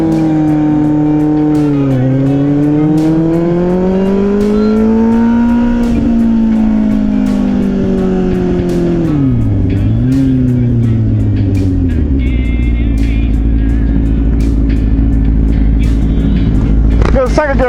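A car engine revs up and shifts up through the gears nearby, pitch climbing and dropping with each change before settling into a steady low drone, with a voice talking over it.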